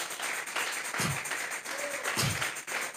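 A church congregation applauds during a sermon, giving a steady round of crowd clapping that holds for a few seconds at a moderate level.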